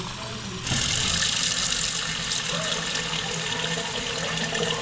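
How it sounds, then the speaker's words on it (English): Stone crab claws rinsed under a running kitchen tap, a steady broadband rush of water that switches on abruptly and continues loud and even, with a faint low hum beneath. "All right, so I'm gonna rinse these off."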